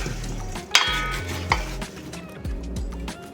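Seasoned potato chunks and sausage are tossed with oil, giving close, scraping stirs and occasional sharper clacks against the bowl in an uneven rhythm. A low steady hum runs underneath and no one speaks.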